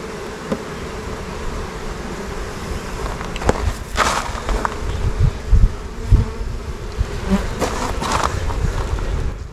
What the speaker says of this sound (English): Because these bees are all fanning.